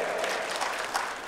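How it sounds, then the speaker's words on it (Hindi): An audience in Andhra Pradesh applauding, a short burst of dense clapping from a crowd at moderate distance. "नायडू पेटा में ताली बजाया आंध्र प्रदेश वालों ने"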